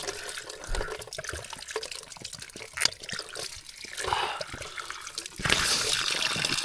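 Mountain stream water flowing and splashing steadily at a water source on a hike up Mt. Napulauan in Ifugao, with a louder rush of water near the end.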